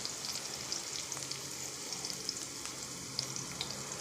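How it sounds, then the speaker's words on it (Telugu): Onions and green chillies fry in a pan for a ridge gourd and soy chunk curry, giving a steady, quiet sizzle dotted with small pops and crackles, with no voices. "ఉల్లిపాయ ముక్కలు కొంచెం వేగిన తర్వాత మనం పచ్చిమిరపకాయలు వేసుకోవాలి."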